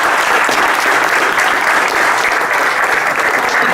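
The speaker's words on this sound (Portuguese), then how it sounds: "Palmas ao Flávio." Audience applause greeting Flávio Koutzii at a democracy soirée event, a steady, dense clapping from a crowd that fills the room evenly from start to finish.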